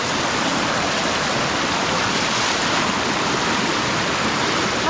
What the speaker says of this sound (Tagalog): Malakas yung agos niya